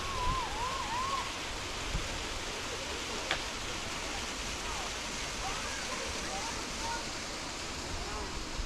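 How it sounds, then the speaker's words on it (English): A waterfall at Scotts Run Nature Preserve makes a steady, even rush of falling water that fills the scene, with faint birdsong drifting over it. "And that's the waterfall."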